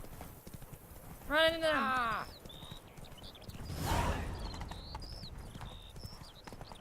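Roach, a horse in The Witcher 3, gallops with steady clip-clop hoofbeats and a brief neigh, while a player shouts over the game audio.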